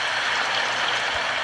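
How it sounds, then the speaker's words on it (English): Steady, hissing rain falls evenly throughout, a dense broadband wash without distinct drops, continuous and fairly close after distant thunder, with no voices. "Do you hear the rain?"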